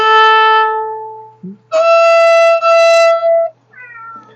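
A house cat meows for attention nearby: two long, loud, drawn-out meows followed by a shorter, softer one, clear against a quiet room.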